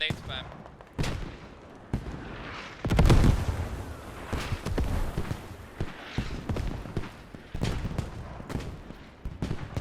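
Mortar fire in the military shooter game Squad during a 26v26 esports tournament match: repeated heavy thumps and blasts, one loud burst near the middle, under steady commentator talk.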